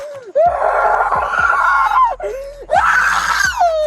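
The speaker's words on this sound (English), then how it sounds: "Now we got screaming," A woman screams repeatedly during a police arrest in an Atlanta park: long, loud, piercing wails in two drawn-out bursts with a short break, close to the microphone.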